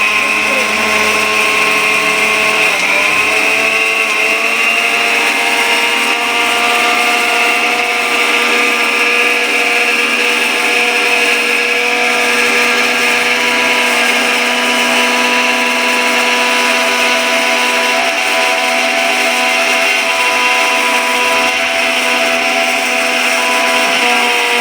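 An electric grinder whirs loudly and continuously as it grinds homegrown green chillies, thick with seeds, into powder. The steady motor drone holds up close for the whole stretch, with a brief dip near the start.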